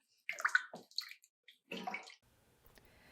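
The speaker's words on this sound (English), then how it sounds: "So it's just barely starting to come to a simmer." Pasta sauce with diced tomatoes and Italian sausage in a skillet just coming to a simmer, a few close bursts of bubbling and liquid sloshing separated by short pauses, then fading to a faint hiss, with no talk.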